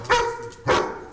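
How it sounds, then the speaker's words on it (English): A three-year-old German Shepherd barks twice in quick succession during aggression training with a decoy; the barks are loud, close and sharp, with nothing else heard. "that is the German Shepherd, 3-year-old"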